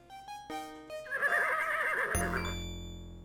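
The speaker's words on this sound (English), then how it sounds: "Little John can deal with the horse" A horse in the adventure game Conquests of the Longbow gives one clear, loud whinny, a wavering neigh that rises and then trails off. Synthesized game tones sound around it, and no one speaks.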